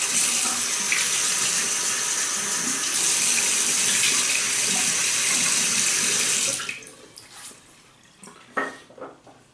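A bathroom tap runs steadily into a sink as water is splashed on the face before a traditional shave, a loud close hiss for most of the stretch, then the flow stops, leaving drips and small wet splashes.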